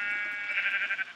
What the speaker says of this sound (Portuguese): vou ter que matar a ovelha